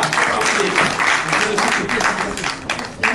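A small group applauds indoors, a dense continuous patter of clapping hands held at a fairly even, close level for a few seconds, with voices mixed in.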